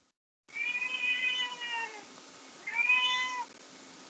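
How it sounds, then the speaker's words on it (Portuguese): A pet cat meows twice close by, a long drawn-out tonal meow followed after a short pause by a shorter one, clear and alone over a faint room hiss. "é um gato, é o meu gato, professor"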